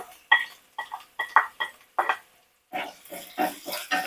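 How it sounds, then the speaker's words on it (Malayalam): Chopped onions are stirred in a pan while cooking besan upperi (Maharashtrian zunka): a run of close, rhythmic scraping and clinking strokes, louder and denser toward the end, with no talking. "സബുല കുറച്ച് ഇളക്കി കൊടുക്കാം"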